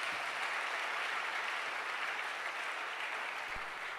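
A church congregation applauds during a service, a dense steady wash of clapping from many hands, moderately loud and sustained throughout, with no clear voices over it.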